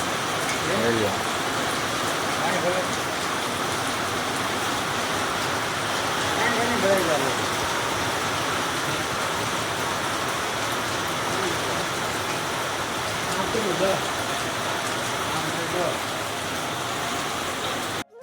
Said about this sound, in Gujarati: વરસાદ આવી ગયો જોરદાર.